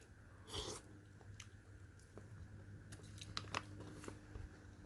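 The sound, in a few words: chewing crunchy pears from a Canadian military ration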